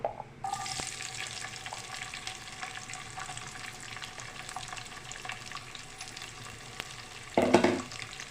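Mustard seeds, cumin and onion pieces frying in hot oil, a continuous crackling sizzle starting abruptly and holding steady, with a louder burst of stirring near the end, no voices.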